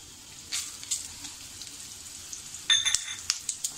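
Coriander seeds roast in a pan over low heat with whole chillies, giving a soft, steady sizzle broken by sharp little crackles and pops that grow busier near the end.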